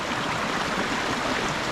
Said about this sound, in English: I hope you can hear me above the water